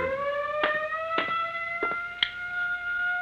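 A siren sound effect in a suspense radio drama wails steadily as a loud electronic tone with pulsing harmonics, broken by several sharp clicks and thumps.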